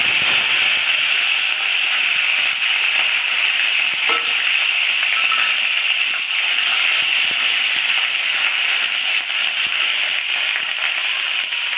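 Onion paste frying in hot oil for a Bengali doi katla fish curry, a dense steady sizzle and crackle filling the whole stretch, close and loud, with no talking.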